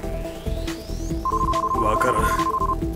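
A telephone rings for an incoming call from Yue, a steady electronic ring tone holding for about a second and a half over background music, with no voices.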